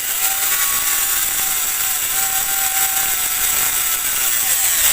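A repaired electric coffee grinder with a burnt-smelling, broken-brush motor runs steadily after being plugged in, a continuous high whine with a faint tonal hum holding at even loudness for the whole stretch.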